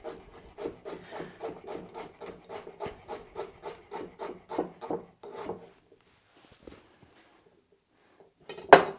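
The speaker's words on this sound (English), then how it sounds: "Then I have one more that I'm just gonna cut into little slices for my stir fry, for my curry, for my chili." A knife slices carrots into thin pieces on a wooden cutting board, about a dozen quick, evenly spaced close chops, then a pause with a few faint knocks and a final louder clatter.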